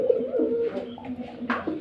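Arabian pigeons, a male and female pair kept for sale, cooing in low throaty rolls, a few soft calls close by with no talk.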